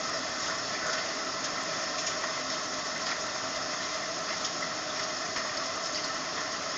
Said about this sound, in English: We are presently going to run some water